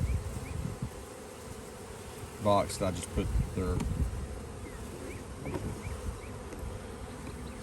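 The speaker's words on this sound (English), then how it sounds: "So what I'm gonna do is I'm gonna shake these bees out in front of that" Honeybees at an apiary hive hum in a continuous, steady drone while someone talks briefly over them, his voice rising above the buzzing for a couple of seconds.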